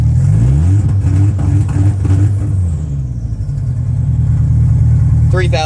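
A 2G DSM car engine holds against a 3,000 RPM stutter-box rev limiter, giving a loud, steady, close-up drone with a rapid stuttering pulse. The roar eases toward the end.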